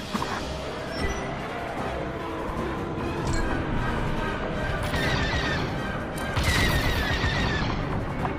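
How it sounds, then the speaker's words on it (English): Turrets firing on ships in a space battle in Star Wars: Squadrons, a dense din of rapid blaster shots and booming explosions layered over engine roar, growing heavier near the end, with a voice speaking over it. "All turrets open fire on those ships."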